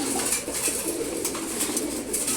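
A steady run of deep, warbling coos from a nearby red chulli pigeon pair fills the loft at morning feeding, with light rustling and clicking mixed in and no voices.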